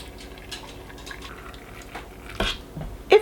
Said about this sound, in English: my carrots are packed in the jars. I'm going to fill them with boiling water.